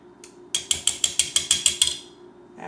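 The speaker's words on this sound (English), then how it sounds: "I'm going to lightly whisk just to break the yolks up." Eggs are lightly whisked in a bowl to break the yolks, giving about nine quick, evenly spaced clinking strokes of the whisk against the bowl, close and crisp, with no talking.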